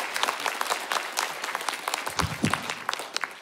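A concert audience applauds the arranger with scattered, moderately quiet clapping. Individual claps stand out above the crowd, and a few louder hand claps land near the end.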